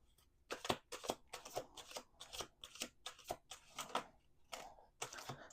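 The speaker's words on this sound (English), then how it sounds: "1 more shuffle." Playing cards being shuffled in a steady run of about a dozen crisp riffling bursts, close and clear with no talking.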